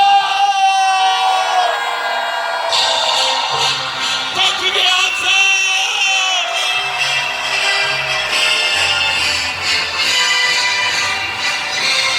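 Large outdoor rally crowd in Seocho roaring and cheering, loud sustained shouting and whooping that swells after an initial surge and stays dense throughout.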